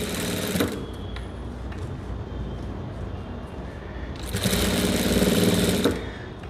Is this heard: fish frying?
no